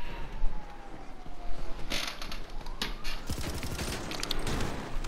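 Gunfire in GTA Online, rapid automatic bursts that build toward the end amid mechanical clattering and creaks, loud and close, with little talk.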